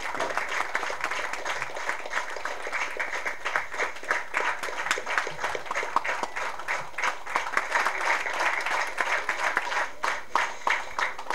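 A large audience claps at a stage honoring event, sustained dense applause with crisp individual claps popping out and a slight rise near the end.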